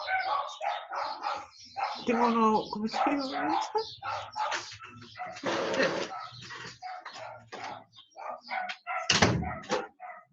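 Small but keen hunting dogs bark in the yard, sharp repeated yaps coming in bursts, mixed with a person talking nearby and a loud thump near the end.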